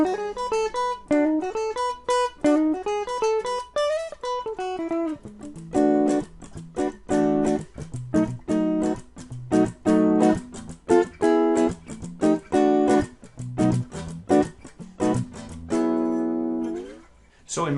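Electric guitar through the Tascam GB-10 clean channel, a clear picked melodic run followed by strummed chords and choppy rhythmic stabs, loud and upfront with no voice over it.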